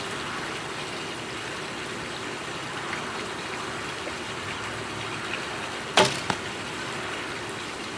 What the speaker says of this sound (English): I'm gonna shoot in the middle of the bag target with these arrows.